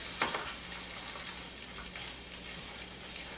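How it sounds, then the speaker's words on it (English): Tex-Mex food with melting cheese sizzles steadily in a frying pan, a soft continuous crackle and hiss at moderate level with no talking. "This is getting a nice sizzle to it."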